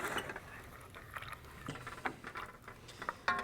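Fruit simmering in a pot with maple syrup is stirred for Eton mess, giving soft irregular scraping and patter with light clinks of utensil against the pan, close and quiet, no talking.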